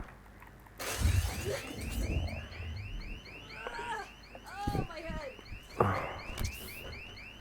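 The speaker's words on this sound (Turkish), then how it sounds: "Alarm niye çalıyor?" Repeating electronic alarm tones ring in a zombie survival video game, a loud warbling pattern cycling steadily throughout, mixed with game noises and occasional voices.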